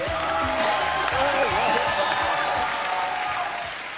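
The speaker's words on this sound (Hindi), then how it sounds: "जोरदार तालियां हो जाए।" A studio audience at a televised comedy show breaks into loud applause, a dense clatter of clapping mixed with cheers and whoops, while voices call out over it; the noise eases slightly toward the end.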